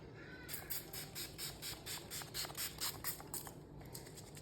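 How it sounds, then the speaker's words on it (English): Makeup setting spray is misted onto a face in a quick series of about a dozen short, hissing pumps, close and crisp, with no talking. "grab my setting spray and spray on my face"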